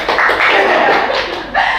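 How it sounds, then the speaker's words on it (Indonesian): A small studio audience at a podcast gives a short burst of hand clapping for a guest, brisk dense claps close by, dipping briefly near the end before picking back up. "Tepuk tangan dulu buat Bapak ya"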